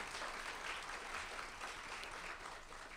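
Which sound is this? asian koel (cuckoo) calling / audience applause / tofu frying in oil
audience applause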